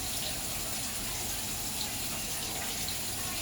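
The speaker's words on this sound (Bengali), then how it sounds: "এই যে মটরগুলো এখন আমি এখান থেকে জল থেকে ছাড়িয়ে নিচ্ছি" Running water splashes steadily as soaked peas are lifted out of their soaking water in a home kitchen while making matar paneer, a continuous close wash with no clear voice.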